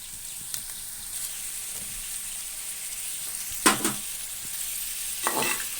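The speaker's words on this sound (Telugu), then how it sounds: "ఇప్పుడు పచ్చిరేలు వేసుకోవాలండి" Green chillies added to a pan for a prawn and drumstick curry give a faint, steady sizzle, with a couple of sharper bursts of crackling and stirring scrapes.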